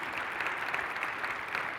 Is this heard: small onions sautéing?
no